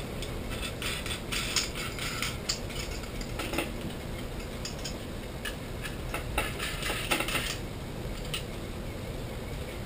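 A ratchet cinches half-inch bolts down on the base of a knife-making jig, giving off repeated fast clicking bursts at close range, mixed with metallic taps and a steady background hiss.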